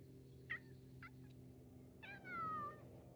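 A small tomcat meows near a returning home, first with two short chirping mews and then one longer, drawn-out meow, all fairly quiet over a low steady engine hum.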